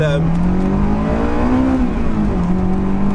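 Honda S2000 engine revving up toward 9,000 RPM with the roof down, a loud close engine note rising and falling in pitch with a steady harmonic whine throughout.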